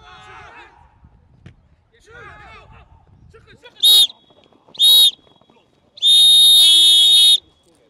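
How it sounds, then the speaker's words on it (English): A referee blows the full-time whistle at a football match: two short sharp blasts followed by one long piercing blast, loud and close after a stretch of quiet talk. "And that's the full-time whistle."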